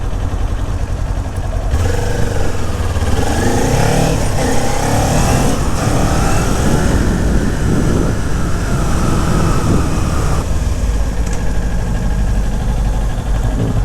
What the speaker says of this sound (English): Why is this biker tailgating this pickup?